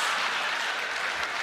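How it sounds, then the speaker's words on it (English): Audience at a comedy show breaks into loud, sustained applause and cheering, a dense wash of clapping that fills the whole moment without letup. "We've got the crowd going nuts."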